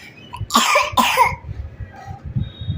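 Two sharp, loud coughs come close together near the start, followed by a low muffled rumble of background noise.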